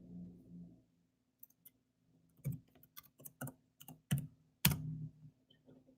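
A handful of computer keyboard key clicks tapping in a short passcode, scattered and irregular, fairly close and quiet against a faint background hum.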